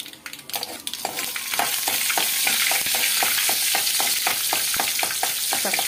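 Punugulu fritters frying in a pan of oil, a loud continuous close sizzle broken by a regular run of scraping stirs, with no talking.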